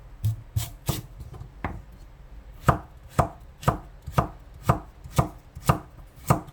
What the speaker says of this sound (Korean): 야채는 그냥 잔잔하게 먹기 좋게 약간 길쭉길쭉하게 썰었어요.